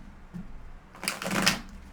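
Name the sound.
tarot cards being shuffled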